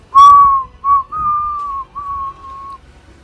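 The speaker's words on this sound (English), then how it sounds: "The whistle was soft." Soft whistling carries a single sustained tone in short phrases, one held note sliding slightly before pausing and continuing, alone in a quiet space.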